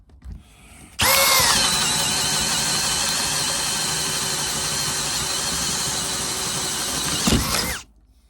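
A power drill with a Bosch wood bit whines at high speed for several seconds, boring steadily through wood, then winds down and stops; loud and close.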